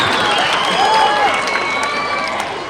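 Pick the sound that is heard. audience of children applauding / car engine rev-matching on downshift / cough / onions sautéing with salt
audience of children applauding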